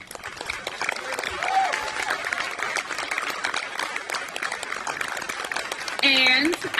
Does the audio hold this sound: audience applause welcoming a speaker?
yes